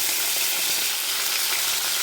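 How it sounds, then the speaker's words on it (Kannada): Cut brinjal frying in oil in a pan for baingan bharta, a steady close sizzle with soft hissing crackle and no talking. "ಇದು ಒಂದು ಪ್ಯಾನ್ನಾಗ ಸ್ವಲ್ಪ ಎಣ್ಣೆ ಹಾಕ್ಬೇಕು. ಈಗ ಕಟ್ ಮಾಡಿ ಇಟ್ಕೊಂಡಿದ್ದು ಇದು ಹಾಕಬೇಕು."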